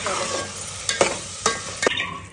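Masala paste being stirred and fried in oil with onion in a pan, three firm scraping strokes against a constant close sizzle.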